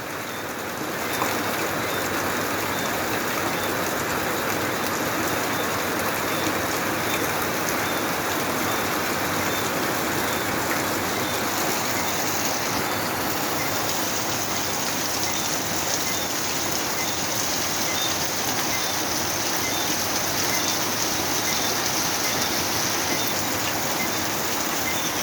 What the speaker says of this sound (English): The sound of the crickets mixed with the sound of the rain.